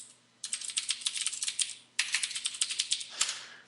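Code typed on a computer keyboard in two quick bursts of clicky keystrokes, close and fairly loud, separated by a short pause and ending in a few scattered key taps.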